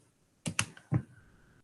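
A few keystrokes on a computer keyboard while entering a trigonometry function, three quick clicks close together, fairly quiet and alone with no talk.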